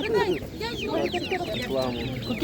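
Chickens cluck and squawk repeatedly at a busy outdoor poultry market, several birds calling close by with a rapid, uneven rhythm over background murmur.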